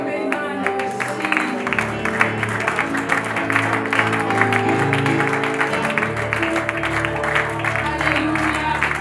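A church congregation claps together through a prayer service, with steady, dense applause that carries on throughout while a voice speaks over it.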